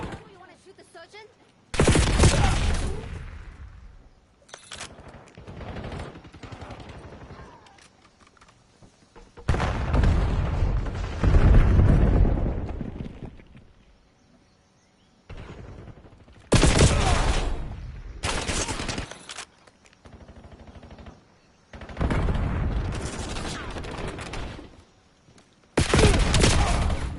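Video game gunfire in loud, repeated bursts of rapid shooting, broken by short quieter gaps, with someone talking between the volleys.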